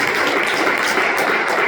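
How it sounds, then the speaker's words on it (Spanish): Hands clapping together from a church congregation, a dense, steady wash of applause that holds evenly for the whole stretch with no voices over it. "Denle una ofrenda de palmas al Señor"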